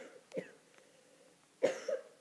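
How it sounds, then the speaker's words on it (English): Two separate coughs from a person getting a cold: a short one early, then a stronger double cough near the end, close and fairly quiet. "I have to cough."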